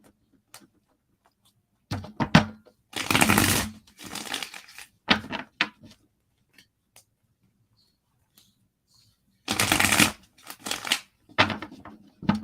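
Quiet room with a few separate bursts of tarot cards being shuffled, papery riffling and soft taps, no talking.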